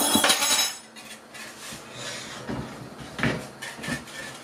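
A utensil scrapes and knocks against a pot while chocolate pudding is stirred over low gas, irregular close clinks and scrapes with a thick, muffled stirring swish between them.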